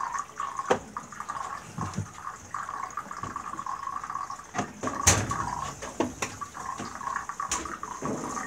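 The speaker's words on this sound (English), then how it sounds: "If you can, you want to rinse them out." Fresh water splashes and pours as dyed fabric is rinsed in a bucket, continuous close sloshing with irregular drips and splashes, no talk.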